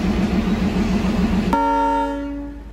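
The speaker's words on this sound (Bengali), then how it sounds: "হুইসেল বাজিয়ে ট্রেন জানিয়ে দিল সে এনজেপিকে বিদায় জানিয়ে রওনা দিচ্ছে দার্জিলিংয়ের উদ্দেশ্যে" Darjeeling Himalayan toy train at NJP station sounds a long steady whistle before departing for Darjeeling, the whistle entering abruptly over station rumble and holding clear and loud for about a second before fading.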